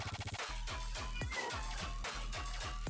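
A cat meows repeatedly nearby, a string of short rhythmic cries in quick succession, heard on its own without any talking.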